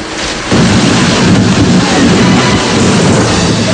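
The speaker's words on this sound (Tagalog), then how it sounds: "umuungol na tunog ng hangin, kasabay ng malakas na ulan" Typhoon Haiyan in Masbate, Philippines, a dense, loud roar of heavy rain and gusting wind that swells abruptly after a half second and then holds steady, continuous and close, with no voices.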